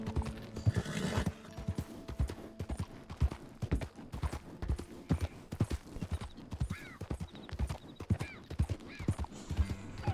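Steady horse hoofbeats clop in a quick trotting rhythm in Red Dead Redemption 2, fairly faint and continuous throughout, with occasional higher whinny-like sounds in the second half.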